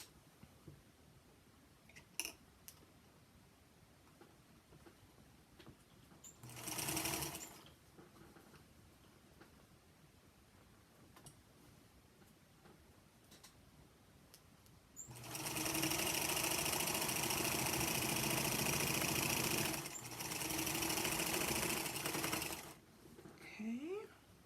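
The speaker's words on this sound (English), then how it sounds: "I'm going to roll this over like this, and I'm going to top stitch it down." Singer Featherweight sewing machine top stitching fabric, running in a brief burst around seven seconds and then in a long steady whir for about seven seconds, fairly close and moderately loud with quiet room sound between.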